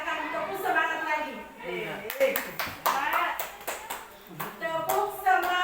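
A group claps out the rhythmic 'tepuk semangat' spirit clap at a school workshop, with bursts of sharp, patterned hand claps mixed with chanting voices, close and fairly loud.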